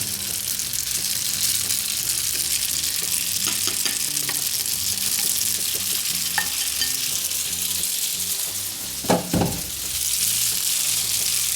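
Spaghetti with sausages and cheese being stirred in a hot pan sizzles and fries steadily, with scraping utensil clicks and a louder clatter near the end.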